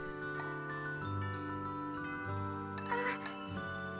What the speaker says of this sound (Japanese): チャイムが鳴ってしまいました